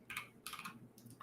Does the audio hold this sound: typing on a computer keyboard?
yes